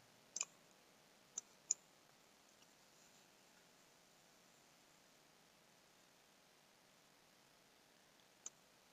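A computer mouse clicks sharply a few times, a quick double click near the start, two more close together, then one last click after a long pause, all close and crisp over faint hiss with no talk.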